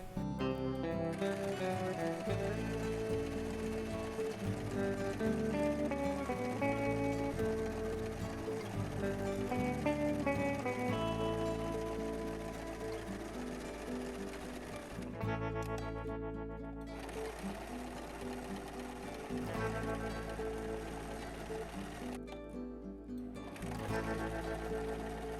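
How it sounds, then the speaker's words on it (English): A sewing machine runs a zigzag stitch through fabric for a bohemian dress, a steady close mechanical whir with fast rhythmic needle chatter, pausing briefly twice before starting up again. "just in case I'm going to zigzag stitch everything"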